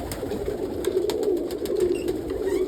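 Short-faced tumbler pigeons in a loft, several soft low coos that overlap in a continuous murmur, close by, with a few faint clicks and no voices.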